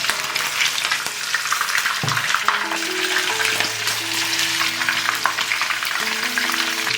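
Sea fish pan-fries in rendered pork fat, a dense, continuous crackling sizzle that holds steady and fairly loud throughout, with no talking.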